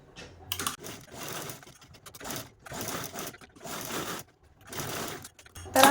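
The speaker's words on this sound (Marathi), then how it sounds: "आता दोन्हीकडेने स्टिच करून आपण इथे थोडासा राऊंड शेप पण देऊन घेऊ म्हणजे स्टिच करू" Sewing machine stitching fabric into a small rounded shape for a Sankranti gift craft, running in several short bursts of rapid mechanical clatter separated by brief pauses.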